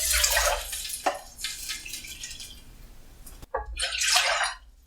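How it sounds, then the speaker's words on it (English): Water is poured into a pot to cook rice pulao with bay leaf, coming as uneven splashing bursts with a short break in the middle, close by and fairly soft. "pour in double the amount of water, which is 2 cups of water"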